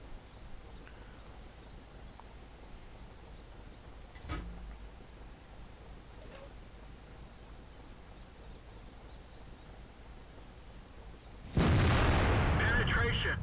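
Tank gun firing and penetrating a target in World of Tanks: a long stretch of quiet hiss with a faint thud, then a sudden loud, sustained blast that rings on to the end.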